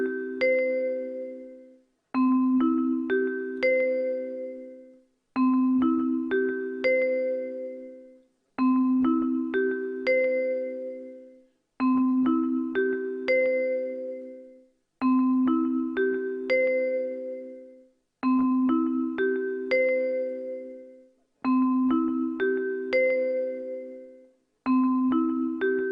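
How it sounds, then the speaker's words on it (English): A parliament chamber's division bell rings out in a repeating chime pattern, eight evenly spaced bursts of bright struck tones, each decaying before the next, clear and alone. "As the bells ring"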